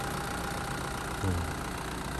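A Caterpillar 910G wheel loader's four-cylinder turbo diesel engine idles steadily with a low, constant rumble and a faint whine, with a brief deeper thud midway.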